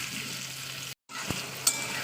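Potato pieces frying in hot oil in a home kitchen pan: continuous close sizzling that drops out briefly, then resumes, with a soft tap from stirring near the end.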